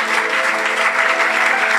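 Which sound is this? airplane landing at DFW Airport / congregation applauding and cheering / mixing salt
congregation applauding and cheering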